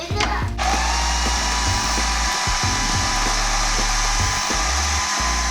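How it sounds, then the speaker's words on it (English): A food processor whirs loudly and steadily as it blends a healthy dessert mixture into a dough. The motor drone starts after a brief noisy moment and runs almost unbroken to the end, with no speech. "let's whiz this one up, Chasey."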